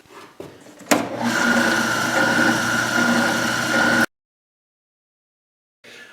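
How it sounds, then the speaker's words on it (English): A spindle sander runs steadily for about three seconds as it rounds the corners of a wooden part for a 1960s Gibson J-45 acoustic guitar repair. The sound is a loud, even motor whine with a grinding hum, and it stops abruptly into silence. "Now I'm going to go back over to the spindle sander and round these corners a little bit."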